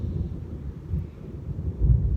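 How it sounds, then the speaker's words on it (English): Low, rolling thunder rumbles through a cool stormy day near a beehive, a deep continuous grumble that swells toward the end, with some wind buffeting the microphone. "But lightning is striking"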